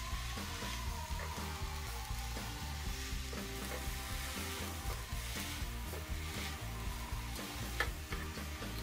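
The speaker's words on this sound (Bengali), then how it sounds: "তারপর উল্টিয়ে পাল্টিয়ে দিব শাকগুলো" Kalmi greens (water spinach) tossed and turned in a frying pan: a continuous gentle sizzle broken by repeated soft scrapes and taps of a utensil, close up and low in volume.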